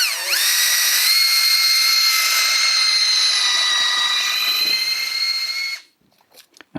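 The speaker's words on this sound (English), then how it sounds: "Now we're going to drill the pilot hole." A power drill bores a pilot hole into juniper deadwood on a bonsai, a loud, close, steady high whine lasting nearly six seconds before cutting out into brief handling noises.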